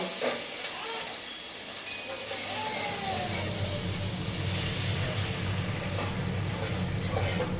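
Food frying in hot oil in a pan, a dense, steady sizzle held at an even level throughout, close and uninterrupted.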